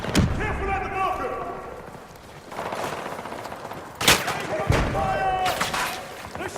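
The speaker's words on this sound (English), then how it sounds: "They're shooting!" Battlefield 2042 video game firefight: a voice shouts over heavy, echoing gunshots and machine-gun bursts, with a loud crack at the start and two more sharp blasts near the end amid rumbling battle noise.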